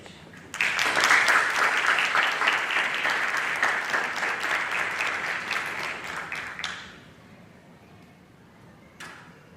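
An audience at an engineering awards reception breaks into loud, sustained applause as an award recipient is welcomed to the stage; the clapping runs for several seconds, then drops away abruptly, leaving a quiet room and one brief final burst.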